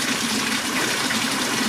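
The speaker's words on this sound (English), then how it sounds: "we keep some of the faucets dripping, so there's fresh water coming in" Fresh water from dripping faucets runs into a concrete-bottomed aviary pond, a continuous close, fairly loud gushing and trickling with no pauses.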